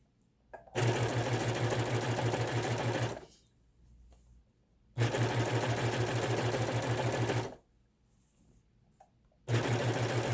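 An overlock sewing machine stitches the hem of a kitchen curtain in three loud, steady bursts of rapid whirring, each a few seconds long, with quiet pauses between.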